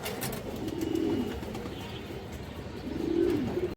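A male pigeon coos twice, low and throaty, close by, each call rolling for about a second with a quiet gap between.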